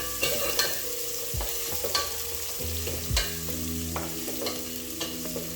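Onions and ginger fry in a pot with spices, a steady sizzle broken by repeated scraping knocks of a spoon stirring against the pot, close and continuous with no talk.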